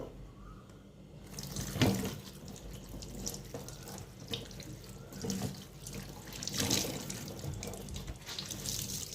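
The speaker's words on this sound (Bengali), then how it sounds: "কতগুলো বাসন জড়ো হয়ে আছে আমার সেগুলো ধুয়ে নেবো" Running tap water splashes into a sink with clinks of dishes being rinsed, steady and close, swelling now and then as items are moved.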